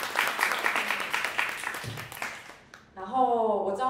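Audience applause for a speaker at a 2019 blockchain talk on the Ethereum protocol, a burst of clapping that fades out over about two and a half seconds before a voice begins speaking.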